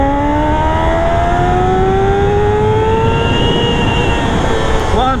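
A Kawasaki ZX6R motorcycle fitted with an SC Project exhaust pulls hard through second gear, its engine note climbing steadily and loud for several seconds, close to the rider.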